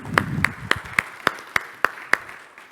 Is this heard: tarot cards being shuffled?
no